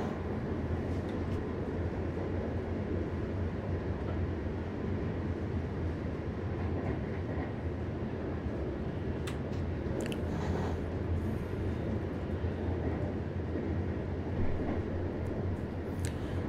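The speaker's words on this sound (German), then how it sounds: "So, wir erreichen langsam aber sicher Osnabrück Hauptbahnhof, das Ziel unserer Reise" A 1990s regional train on the Teuto Bahn pulls slowly into Osnabrück Hauptbahnhof in Train Simulator 2019, with a steady rolling rumble and wheel-on-rail noise throughout and a few faint squeals.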